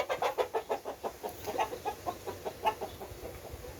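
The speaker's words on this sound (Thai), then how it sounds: "วันนี้พามาชมไก่หนุ่มนะครับ" Young chickens (cockerels) in a holding pen cluck in a steady, rapid series of short calls, moderately close, with a constant outdoor hiss behind them and no talking.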